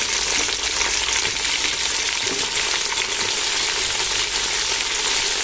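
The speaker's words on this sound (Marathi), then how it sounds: "ते देखील आता आपल्याला तेलामध्ये छान असे भाजून घ्यायचे" Chopped tomatoes fry in hot oil in a large pot for chicken biryani, a loud, steady, continuous sizzle with no pauses and no voices.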